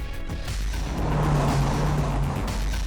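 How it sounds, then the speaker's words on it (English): A speeding car on a South Carolina road at night, its engine roaring loud and close as it rushes past with a brief rising surge and a hint of tire noise. "A speeding car crosses the line and takes dead aim at the trooper"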